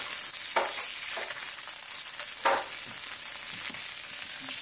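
Garlic and anchovies sizzle as they sauté in a pan for puttanesca, a constant crackling hiss with a few sharper pops, close and moderately quiet, with no talking.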